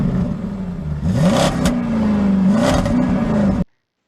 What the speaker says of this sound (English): So Arush, please start the Jeep.